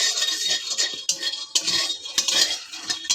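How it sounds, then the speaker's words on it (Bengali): Peanuts being fried are stirred in a pan. A utensil scrapes and clinks against the metal in quick, irregular bursts, loud and close, with little sizzle audible beneath. "দেখুন বাদামটা ভাজা হয়ে গেছে"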